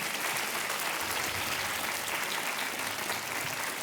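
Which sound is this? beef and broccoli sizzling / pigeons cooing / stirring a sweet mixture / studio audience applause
studio audience applause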